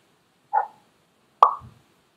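Two short, bright pop sound effects from a kids' programming app, about a second apart, the second slightly sharper with a soft low tail, clean with no other sound.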